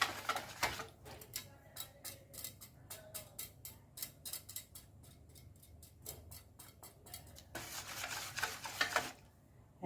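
A spoon works steadily through thick Goan dodol mixture in a pan, giving a quick, regular run of soft scraping and rubbing strokes, close and fairly quiet, with no one talking.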